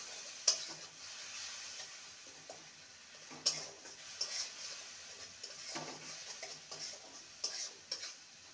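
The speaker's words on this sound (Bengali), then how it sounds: "ভালো করে নেড়ে নেব" Spicy okra curry being stirred in a pan, with soft sizzling under intermittent spoon scrapes and taps against the pan, quiet and close, no talking.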